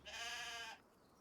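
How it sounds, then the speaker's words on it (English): A baby sheep gives a single short, clear bleat lasting under a second, close by and moderately loud, then a quiet background remains. "That little baby sheep."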